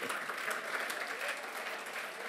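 An audience at a football club's centenary talk event gives steady, moderately distant applause, a continuous wash of many hands clapping without a break.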